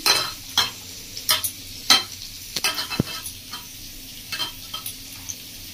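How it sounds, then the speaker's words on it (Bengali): Mutton being mixed by hand with spices and turmeric in a pan, giving irregular wet stirring squelches and scrapes with soft sizzling in between, no talk. "তো ভালো করে মশলাটা দিয়ে মেখে নেবো মাংসটাকে"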